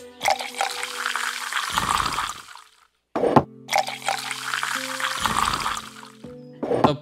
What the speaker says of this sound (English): The pouring sound is bad.